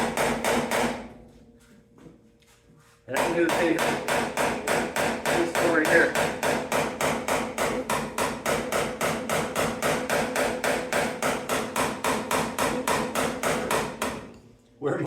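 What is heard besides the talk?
hammer and dolly pounding out dents in car body panel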